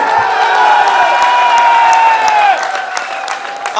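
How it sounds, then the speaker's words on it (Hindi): A crowd at a bar association rally in Gujranwala applauds and cheers loudly, a dense wash of clapping with whoops and shouts, holding strong before easing slightly near the end. "इसके लिए तालियां बजाएं"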